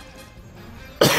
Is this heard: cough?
yes